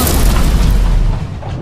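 A single deep, heavy boom rolls out loud and close, then fades into a low rumble.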